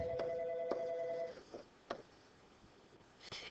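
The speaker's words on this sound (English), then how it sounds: "I'm going to ignore that phone call." A telephone ringing with an incoming call during a maths lesson, a few short electronic rings and tones in the first second or so, then fainter clicks and room noise, heard alone without talk.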